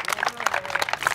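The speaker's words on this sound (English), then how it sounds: "One more round of applause for Elliot." Applause for a tennis player at a boys varsity tennis senior night ceremony, a short burst of clapping from a small audience heard close by with no talk over it.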